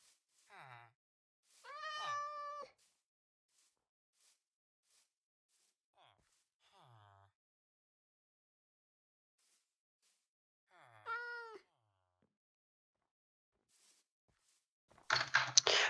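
A cat in a hardcore survival video game meows several times: two clear, harmonic calls near the start, a soft one mid-clip and another later, with quiet gaps between and a burst of crunchy noise at the end.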